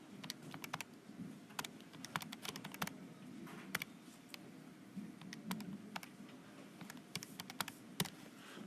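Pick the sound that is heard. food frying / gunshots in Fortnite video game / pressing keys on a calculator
pressing keys on a calculator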